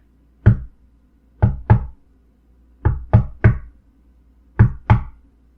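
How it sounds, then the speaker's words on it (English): Knocks on a red door sound in three close-set groups of two or three sharp raps, with short gaps between the groups, against a quiet background. "he approached and knocked on the red door"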